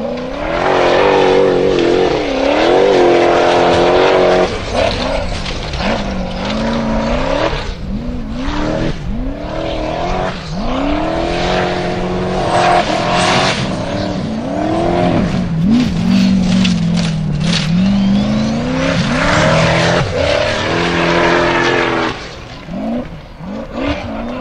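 Formula Offroad car at a hillclimb event in Hella, Iceland, engine revving hard and rising and falling through repeated gear changes as it climbs and slides, loud and close, with bursts of tyre noise throughout.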